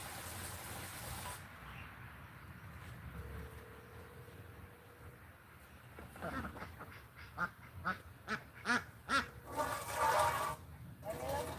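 Twelve ducklings and five chicks hatched from a farm nest peep and quack in a series of short, rhythmic calls that grow louder toward the end, over a faint background hum with a voice briefly present.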